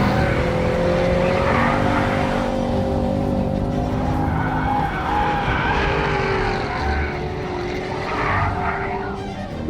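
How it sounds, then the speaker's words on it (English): A car holds a big, long drift through a long back sweeper, its tires skidding in a sustained howl over a loud, straining engine that barely lets up through the whole slide. "It's a big, long drift."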